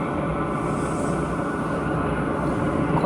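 A portable EcoFlow WAVE3 air conditioner running at maximum mode in a car, heard from outside the vehicle as a steady, loud whooshing fan roar with a constant low hum and no breaks.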